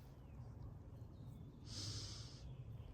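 A short, soft nasal sniff of a blooming lilac flower, a quick inhale through the nose, against a quiet outdoor garden background hum.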